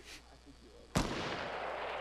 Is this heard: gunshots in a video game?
yes